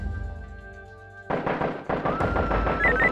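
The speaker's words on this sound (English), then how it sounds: "Shot fired." Gunshots in the SWAT 3 video game, two loud sharp reports about half a second apart, each followed by a lingering ringing tail, close up after a quiet hum.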